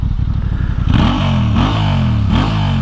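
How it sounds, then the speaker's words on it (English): A Honda Hornet 750 motorcycle engine revs hard up close through its exhaust, rising and dropping in pitch three times over a rumbling idle. "Should we have a listen to the exhaust?"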